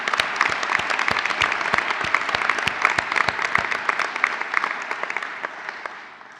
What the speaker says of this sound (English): Please join me in another round of applause for our award winners.